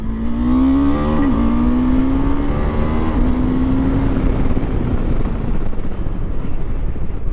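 Riding a modified KTM Adventure 390 motorcycle at speed: a steady engine drone with small pitch shifts through gear changes, heavy wind rush over the mic, constant and loud throughout, no voices.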